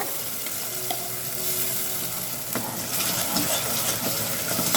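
Ground masala paste sizzling and frying steadily in a pan over medium flame, with a few scraping stirs of a spoon through the dense, continuous hiss.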